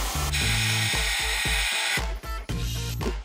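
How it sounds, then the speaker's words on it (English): Sandblasting steel darts, a steady loud hiss of blasting air over a cycling motor or compressor hum that briefly dips and restarts, with no voices. "Sandblasting."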